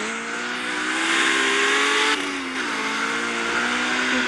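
A car drifts in the CarX Street racing game with a loud, sustained engine roar and a steady high tire squeal, dipping briefly mid-slide before holding strong again.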